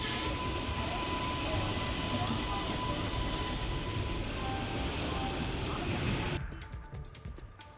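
A train runs over railway tracks with a loud, continuous close-up roar and rumble that drops off sharply near the end.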